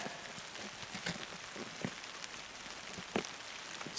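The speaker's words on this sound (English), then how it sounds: "it is raining out here" Rain falling outdoors near a workshop, a faint, steady patter of drops with scattered louder ticks on nearby surfaces, continuous and alone.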